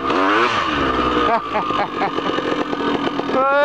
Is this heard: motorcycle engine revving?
yes